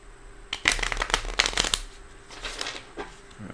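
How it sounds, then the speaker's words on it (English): Playing cards are riffle shuffled in a quick burst of rapid flutters, followed by a softer second riffle, heard up close with no talking. "I need to shuffle a little bit more"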